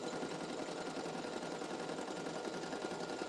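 An embroidery sewing machine stitches an embossed design, a steady dense mechanical whir running evenly and close throughout with no pauses and no talk.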